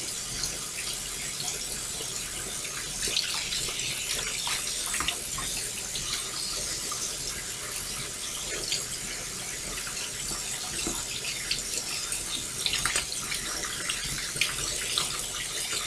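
A kitchen tap runs steadily while something is rinsed under it, giving a continuous hissing splash of water at moderate distance that stays even throughout, with no talking.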